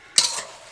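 A spoon makes one brief, close scrape while stirring apples with sugar, cinnamon and nutmeg in a bowl, then the sound fades into quiet.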